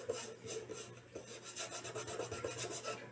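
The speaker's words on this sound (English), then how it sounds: "Now you're gonna have to sand it." Hand sanding of a decoupaged MDF box finished with napkin and Mod Podge, a faint, continuous scratchy rasp in quick back-and-forth rubbing strokes with no voices.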